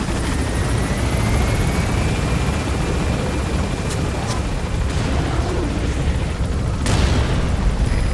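Military helicopter in Metal Gear Solid V: The Phantom Pain, a loud steady rotor roar that fills the whole stretch without a break, with faint background tones and one brief swell near the end.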